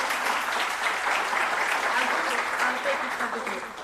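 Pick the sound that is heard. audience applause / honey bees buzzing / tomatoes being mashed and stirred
audience applause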